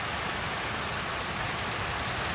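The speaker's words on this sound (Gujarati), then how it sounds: "નેવાધારોની પાણી પડે છે ને વરસાદ આવી ગયો છે" Monsoon rain falls steadily while water pours off a house roof's eaves, forming an even, dense rushing hiss that holds at a constant level with no voices.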